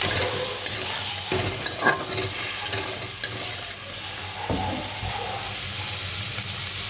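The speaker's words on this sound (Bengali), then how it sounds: "অল্প একটু জল দেব এটা কষাতে হবে" Fennel paneer masala, vegetarian, sizzles in a pan with a splash of water, a steady frying hiss broken by scattered clinks and scrapes of a stirring spoon.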